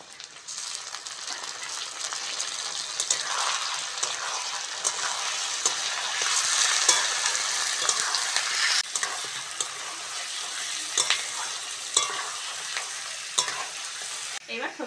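Chicken and vegetables hit a pan of lightly fried onions and sizzle steadily, with a spoon stirring and scraping throughout; the frying stays close and continuous with occasional clinks of the utensil.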